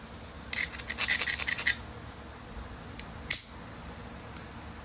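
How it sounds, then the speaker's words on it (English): Edge of a knapped stone flake ground toward a small tip, giving a quick run of close, dry rasping strokes for about a second, then quiet with one faint scrape. "I'm gonna grind it to that little tip right there."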